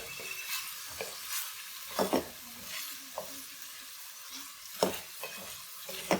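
Carrots frying in a pan at medium heat, a soft sizzle broken by repeated scraping stirs and light utensil knocks, close and clear with no talking.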